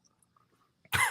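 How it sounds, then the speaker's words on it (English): A man coughs once, a short loud burst that comes abruptly out of near silence and ends at the close of the clip. "Coughing right when you asked me."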